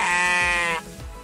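A sheep in an animated children's Bible story gives one loud, close, wavering bleat lasting most of a second, followed by quieter low rustling.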